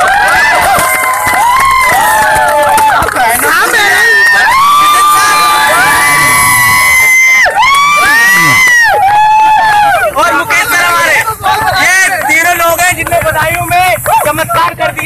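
Crowd at a Vestige car achievers champion day event cheering and applauding loudly for a car achiever, with sustained excited shouts and clapping filling the space, music-like tones riding through the noise.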